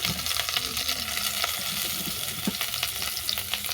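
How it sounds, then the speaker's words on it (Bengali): Sliced potato, raw green banana and ridge gourd fry lightly in hot oil, giving a steady close sizzle with small crackles and a few stirring scrapes throughout. "সমস্ত সবজিগুলো আমি হালকা করে ভেজে নেব দিলাম আলু কাঁচা কলা ঝিঙ্গে"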